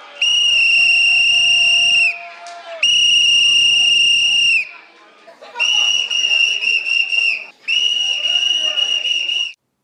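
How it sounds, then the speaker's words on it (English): A protester at a campus speech blows a shrill whistle in four long blasts, each loud and sustained with a brief break between, with crowd noise under them. "generally, he blew a whistle"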